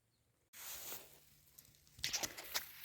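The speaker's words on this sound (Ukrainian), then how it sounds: "Дощик почав накрапати." Light rain beginning to patter outdoors on grass during a mushroom-picking outing, soft scattered taps building from about half a second, with a few sharper rustles near the end.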